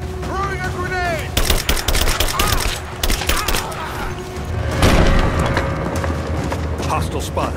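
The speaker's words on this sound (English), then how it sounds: "Grenade out! Throwing a grenade!" Gunfire crackles in sharp bursts with a heavier boom from a grenade explosion in Rise of the Tomb Raider, loud and close amid shouting voices and game effects.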